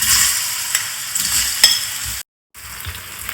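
Small banana pieces sizzle and crackle in ghee in a pan, a steady close frying hiss with scraping stirs, briefly cut to silence before resuming.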